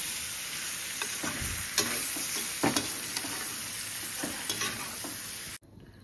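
Pork cooks in a pan with garlic, ginger and onion, giving a steady close sizzle with occasional stirring scrapes. The sound cuts off abruptly near the end.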